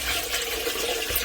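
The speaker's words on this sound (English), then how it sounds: "pour the water in like so." Water poured from a gallon bucket into an RV toilet bowl, a steady continuous splashing rush that fills the whole short moment at close range with no voices.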